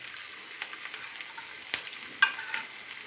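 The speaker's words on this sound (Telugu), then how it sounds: "మీడియం ఫ్లేమ్లో వేయించుకుందాం." Frying on a medium flame for bottle gourd chutney gives a soft, continuous sizzle with a couple of brief stirring scrapes and clinks, fairly quiet and with no talk.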